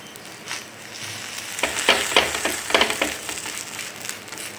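Ragi and drumstick leaf adai frying on low flame in a pan, a soft steady sizzle with a few crackling bursts and light scraping, close and fairly quiet, no voices.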